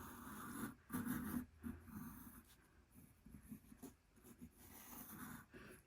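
A Derwent Onyx pencil scratches and rubs across paper in short, close strokes with brief pauses between bursts, faint and dry with no talking.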